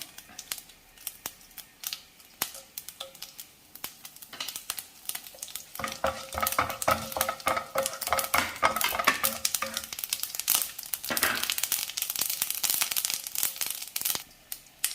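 Mustard seeds and a dried chili hitting hot coconut oil for a jackfruit seed thoran, quiet at first, then building into dense rapid crackling and popping with sharp spatters.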